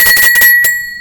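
A medium-pitched bell rings in a few quick, bright strikes close by, the tone holding steady and ringing on clearly after the strikes fade.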